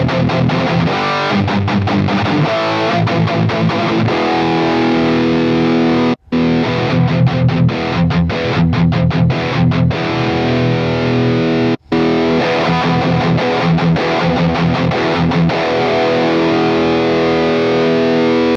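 A heavily distorted electric guitar chugs through an amp on channel B with the master volume at 10: loud, dense, continuous riffing, cut by two brief silent gaps.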